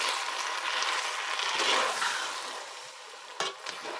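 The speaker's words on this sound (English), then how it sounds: "Then we mix." Bell pepper beefsteak stir fry being stirred in a pan after a slurry is added, a steady wet sizzle and scraping that runs throughout at close range, with a brief knock near the end and no voices.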